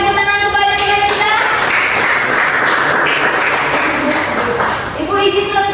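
Classmates in a classroom clap for a student: a short burst of group clapping lasting a few seconds, with a voice heard just before and after it.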